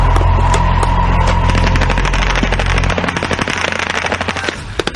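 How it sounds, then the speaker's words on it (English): Close, loud, rapid bursts of machine gun fire during a British Army night training exercise, heard as a dense rattling stream that breaks into separate cracking shots toward the end. "The attack began with flares and machine gun fire once we'd crept as close as we could in the pitch dark."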